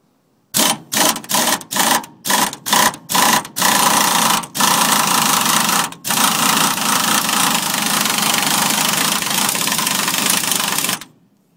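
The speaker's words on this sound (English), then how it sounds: "use my air gun, and I can jack it up" Air impact gun driving a jack to lift a vehicle for a tie rod job, a string of rapid short bursts that merge into one long, loud continuous hammering rattle before cutting off.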